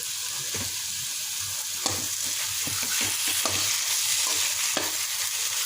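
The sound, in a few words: roasting semolina halwa with chopped nuts in a pan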